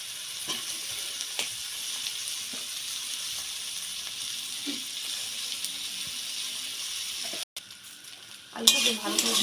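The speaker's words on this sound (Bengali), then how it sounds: "আলুটাকে ভালো করে ভেজে নেব।" Crumbled boiled potatoes fry with turmeric in a pan, a soft sizzle with occasional stirring scrapes, growing louder near the end after a brief cut.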